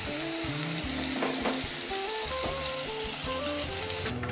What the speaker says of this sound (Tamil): பார்த்திங்கன்னா கத்திரிக்காய் நல்லா வதங்கிடுச்சு,